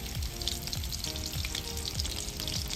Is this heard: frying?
yes